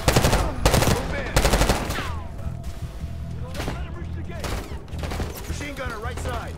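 Bursts of close, loud machine gun fire in Call of Duty: Black Ops 6, several sharp rattling volleys at the start followed by scattered single shots and impacts amid battle noise and shouted voices.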